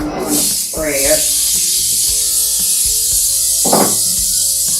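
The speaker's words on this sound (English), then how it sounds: "I'm going to spray it." Close, sustained hiss of cooking spray from a can sprayed into a baking dish, running through the clip, with a couple of brief voice-like sounds and light clatter.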